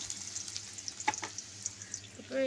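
Chopped onion frying in oil in a pan while being stirred for Bengali shing fish curry, a soft steady sizzle with faint scraping stirs and a few small clinks, quiet and close, no talking.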